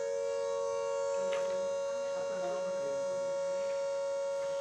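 An air raid siren wails steadily in a Punjab city, a sustained, unwavering tone at moderate distance, with faint voices and background noise under it.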